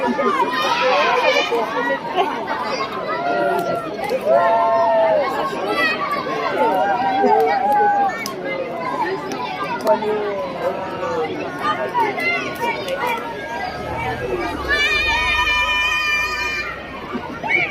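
Dense crowd chatter and overlapping voices at the Carnaval du Vieux street carnival in Lyon, a steady hubbub with brief shouts. A bright tonal whistle or horn cuts through near the end.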